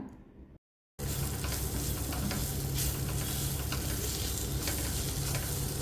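Onions sizzle and fry steadily in hot oil with coriander, pepper and fennel powder, stirred continuously for an egg roast; a brief silent gap comes at the start, then loud, even frying without talk.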